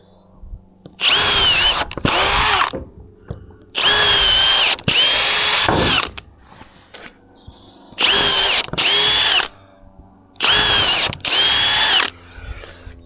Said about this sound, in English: I'm just pre-drilling a hole through each stud